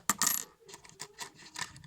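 A Polish 5 groszy coin is handled, giving a quick series of small, bright metallic clinks and taps. The sound is close and quiet, with no speech.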